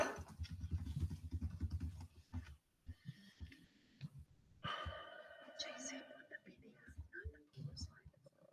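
Soft clicks of typing on a slightly janky computer keyboard during a community meeting, scattered and uneven, mixed with quiet murmured voices and breaths.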